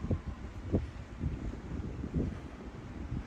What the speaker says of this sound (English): Oh, the wind kicked up again.